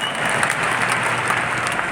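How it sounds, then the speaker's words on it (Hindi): A crowd applauds loudly and steadily for two mentors at a speaking event, a dense wash of clapping that holds evenly throughout with no voices above it. "हमारे दोनों गुरुजनों के लिए एक बार जोरदार तालियां होनी चाहिए"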